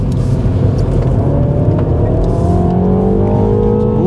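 Engine of a 2021 Mini John Cooper Works pulling out of a slow to medium speed corner, loud and close, revs climbing steadily through a short burst of acceleration without speech.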